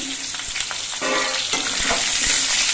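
Potatoes fry in oil with cumin and sugar in a wok, a loud close sizzle with light clatter of stirring throughout and no voices.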